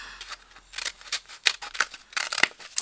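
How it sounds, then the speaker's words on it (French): Children's scissors snip through paper close by, a quick irregular series of crisp cuts and rustles with no talking. "Vous les découpez avec des ciseaux enfants"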